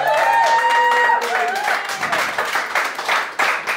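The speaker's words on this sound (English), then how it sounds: "a big round of applause for Percy" A small audience applauds for Percy, a warm steady patter of clapping throughout, with a voice speaking over it at the start.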